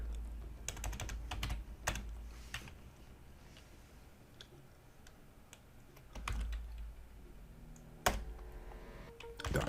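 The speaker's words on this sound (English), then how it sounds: "let me type this one up" Typing on a computer keyboard, close and fairly quiet, with irregular clusters of key clicks separated by short pauses.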